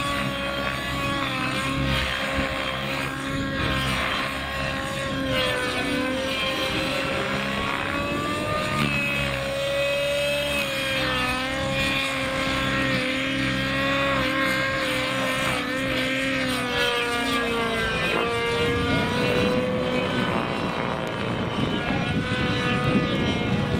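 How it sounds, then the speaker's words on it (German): The methanol nitro engine of a T-Rex 700 RC helicopter flying 3D aerobatics whines steadily with a buzzing, wavering pitch, continuous and fairly loud. "er fliegt den Methanolmotor, wie wir Piloten sagen, ein Verbrenner,"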